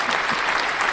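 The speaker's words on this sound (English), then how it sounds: "applause, round of applause" Audience applause at a talk on bias in healthcare, a steady dense patter of many clapping hands filling the whole short moment without a break.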